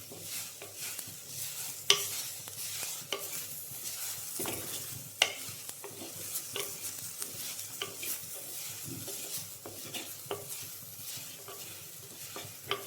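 Spice powders fry in ghee in a clay pot for green peas masala, a soft continuous sizzle broken by frequent scraping and knocking strokes of a spoon stirring.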